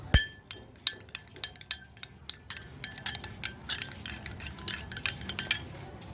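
A spoon clinks steadily against a bowl while mayonnaise, tomato ketchup and pepper sauce are stirred together for a chicken burger sauce, producing a quick run of close, bright metallic taps with no talking.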